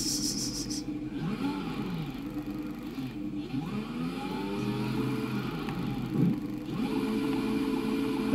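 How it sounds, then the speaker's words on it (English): A Formula One car in a racing video game revs and whines through shifting engine tones, rising and falling pitch with gear changes, steady and fairly loud throughout. "Let's do donuts in the Formula One car."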